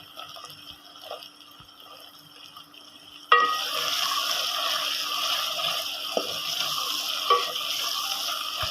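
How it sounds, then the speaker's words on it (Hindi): Garlic cloves go into a pan with chopped green chillies for a spinach and potato curry. A sudden loud hiss starts the frying, which then settles into a steady bright sizzle with a few small pops, and no one speaks. "और इसको हल्का सा फ्राई कर लेंगे।"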